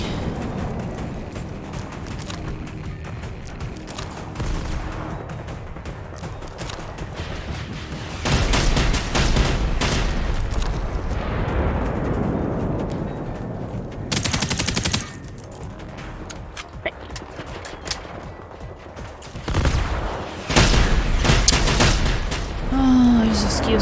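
Bursts of rapid automatic gunfire and heavy explosions in the co-op shooter Generation Zero, arriving in several loud clusters separated by quieter stretches with rumbling aftermath, with players talking over the combat.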